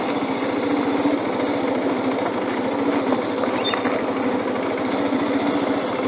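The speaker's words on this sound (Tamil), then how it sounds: "நான் லைட்டாக எக்ஸ்லேட்டர் கொடுக்குறேன்." A motorcycle runs at light throttle while riding in a figure-eight practice loop, its engine giving a steady, close, rapid putter with an even tone throughout and no talking.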